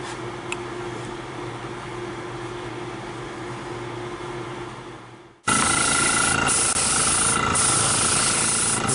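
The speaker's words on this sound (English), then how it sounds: "with the airbrush, it's really easy to control flow, especially if you're not used to painting with a gun" An airbrush sprays a Cerakote coating in light layers: a steady hiss with a low hum, a brief pause, then a louder, brighter spray burst that continues to the end.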